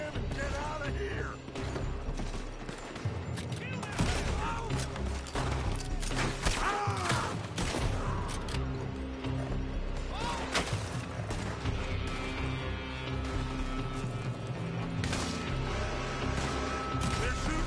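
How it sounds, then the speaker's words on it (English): Gunfire from a building in the video game Red Dead Redemption 2, dense battle noise with repeated sharp shots and crashes over constant mechanical clatter, with people talking and shouting throughout. "They're shooting from that building!"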